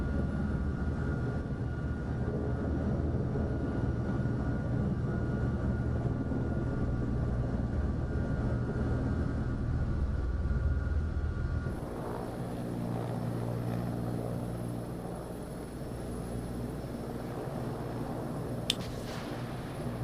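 Enemy helicopters closing in during a light flight simulator game, a steady rotor and engine drone holding loud throughout, with the tone shifting partway as the view changes and a brief sharp click near the end.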